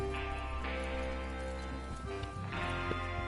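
Horse hooves clip-clop steadily in Red Dead Redemption 2 over a dense, continuous background of music and ambient noise, with an occasional faint whinny.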